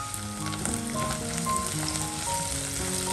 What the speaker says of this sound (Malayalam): വെളിച്ചെണ്ണയിലോട്ട് ഞാൻ കുറച്ചധികം ചെറിയ ഉള്ളി കട്ട് ചെയ്തിട്ടിട്ടുണ്ട്